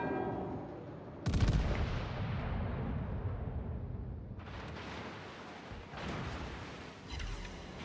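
Naval guns fire in World of Warships, with a loud booming salvo followed by a long rumbling decay and two more heavy shots later, standing alone without talk.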